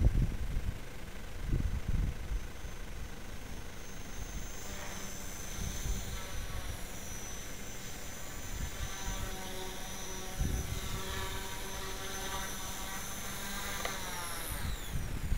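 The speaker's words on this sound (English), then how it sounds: "That was the flight of the final build of the Mcpx Brushless converter" A brushless-converted Mcpx RC helicopter flies outdoors in wind, its rotor and motor whine rising and falling in pitch as it maneuvers, a steady buzzing drone with occasional wind gusts.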